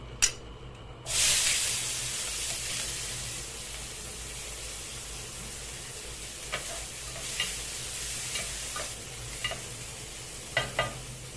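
Onion, corn and green pepper with a bit of fat frying in oil, a steady close sizzle with intermittent scraping stir clicks and a louder burst of hiss near the start.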